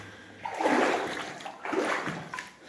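Feet wading through shallow water in an old gold mine rail tunnel, two sloshing splashes a second apart, close and moderately loud in an enclosed space.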